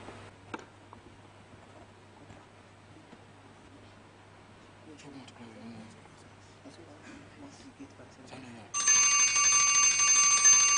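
A quiz show answer bell on a Ghanaian schools maths quiz rings suddenly near the end, a loud sustained ring coming in over quiet room tone and faint background talk.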